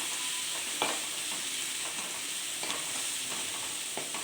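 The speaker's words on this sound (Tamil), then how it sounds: "நல்லா வணக்கி விட்டுலாம்." Steady sizzling in a pan with scraping stirs now and then, a thick masala paste for butter masala frying close up with no talking.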